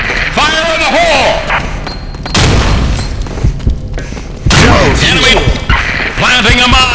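A grenade explodes in a video game. Loud booming blasts and crashes sound amid constant game noise and announcer voice clips, close and dense throughout.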